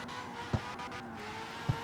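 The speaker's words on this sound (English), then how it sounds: "Super high revving." Mazda RX-7 rotary engine in CarX Street, tuned with a raised rev limiter, holding a high steady rev as a continuous buzzing drone, broken by two short low thumps.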